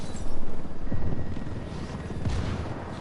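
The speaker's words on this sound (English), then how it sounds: "I got helos passing by." A helicopter in the Ghost Recon video game passes by with a pulsing rotor thump that swells and then eases, mixed with low rumbling game ambience.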